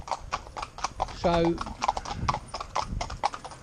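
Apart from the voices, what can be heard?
horses' hooves clip-clopping on road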